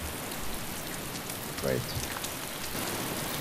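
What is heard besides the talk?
rain falling in the video game DayZ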